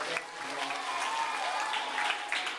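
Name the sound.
children's applause at summer camp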